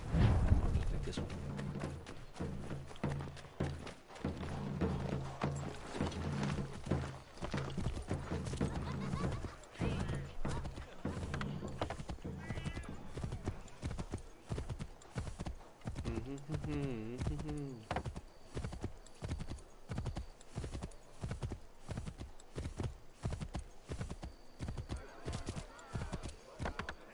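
Horse hooves clatter in steady galloping rhythm throughout, close and loud, in Assassin's Creed III, with game music and scattered effects underneath and a brief whinny midway.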